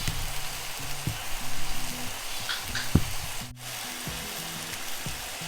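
Two kinds of breakfast meat frying in a pan over low-medium heat make a soft, continuous sizzle and crackle, fairly quiet and close, with a brief scrape or knock near the middle.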